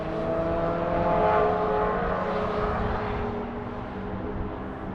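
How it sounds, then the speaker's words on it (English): A Porsche race car at a Dijon-Prenois trackday roars past on the circuit, a loud sustained engine note with a smooth rising and falling whine as it passes close by, no voices. "There's the Porsche again"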